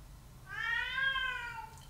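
A cat gives a single drawn-out meow, close and clear, lasting about a second over a quiet background.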